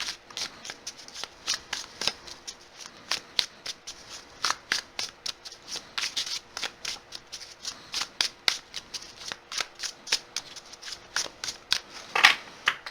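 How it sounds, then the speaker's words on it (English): Tarot cards are shuffled steadily for several seconds, a rapid run of crisp riffling flicks and slaps close up, with no talking. "Just shuffling up the cards really good before we start to put them down."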